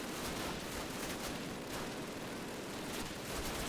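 Dense, continuous FG42 gunfire in the 2003 Call of Duty game, sustained rapid shots blending into a loud roar of battle noise throughout.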